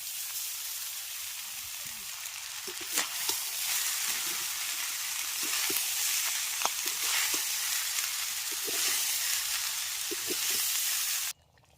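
Strained cooked rice is tipped into a hot pan for fried rice, and a loud, steady hiss of frying carries through. Soft stirring taps and scrapes sit under it, and the sound cuts off abruptly at the end.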